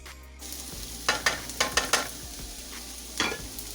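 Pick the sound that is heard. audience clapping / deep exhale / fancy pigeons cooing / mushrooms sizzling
mushrooms sizzling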